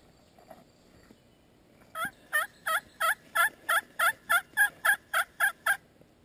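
A wild turkey gobbles outdoors, a run of about twelve quick, loud, evenly spaced gobbling bursts coming close together, heard alone after a brief quiet stretch.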